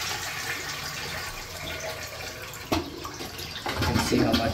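A toilet fitted with a Fluidmaster 400H Performax universal fill valve, steady rushing water at first, then a sharp clunk of the flush and a louder gushing surge as the bowl empties and the tank refills, close and alone.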